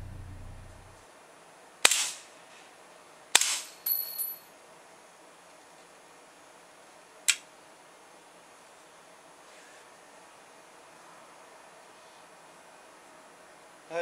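A VFC FNX-45 airsoft pistol fires a few sharp, close cracks, spaced irregularly: two single shots, a brief cluster, then one more after a pause, all over a steady faint hiss.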